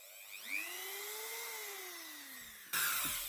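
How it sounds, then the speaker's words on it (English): A Dremel rotary tool with a repaired shaft locking pin spins up to a steady high-pitched whine, holding for a few seconds before cutting off, followed by a brief clatter. "So we see if the Dremel still works."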